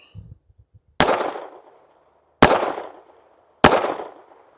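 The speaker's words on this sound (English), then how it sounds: "I have 3 rounds of the Federal Punch and the Kimber Micro 380. See how we shoot that." A Kimber Micro 380 pistol fires three Federal Punch 85 gr .380 ACP rounds at 5 yards, each a sharp, loud, close crack with a short ringing decay, spaced over a second apart.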